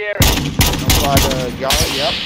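Rapid bursts of gunfire in a shooter video game, loud and close, several sharp cracks in quick succession with echoing tails.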